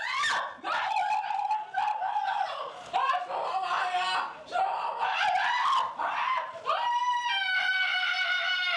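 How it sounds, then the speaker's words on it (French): A young woman in a psychiatric emergency ward screams in despair, with repeated loud, close, wailing cries rising and breaking, each burst separated by short gasping pauses. "la jeune femme pousse des cris de désespoir"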